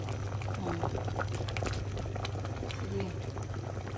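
A pot of balatong (mung bean stew with chicharon) boiling on the stove, a steady dense bubbling and hiss throughout, with a brief spoken word and a low hum underneath.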